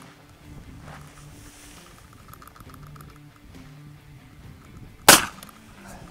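A single sharp, loud bang of a rifle cartridge bursting without a barrel bursts out near the end, after several seconds of quiet, low background noise.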